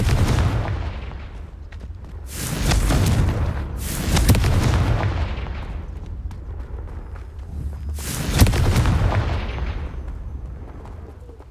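Confringo fire spell explosions in Hogwarts Legacy, a series of deep booming blasts, roughly four heavy bursts each rolling off into a rumbling tail, loud and close.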